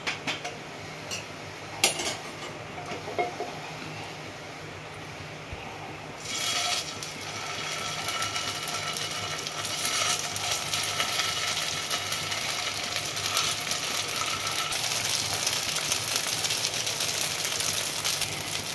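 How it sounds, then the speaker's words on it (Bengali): Paneer fritters fry in a little oil in a hot wok, a steady sizzling hiss that builds and holds, with a few metallic clinks of a utensil against the pan near the start. "এটা খুব অল্প তেলে ভাজতে লাগবে"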